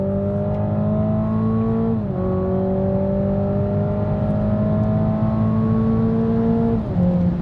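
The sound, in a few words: Toyota GR Supra 4-cylinder engine accelerating on racetrack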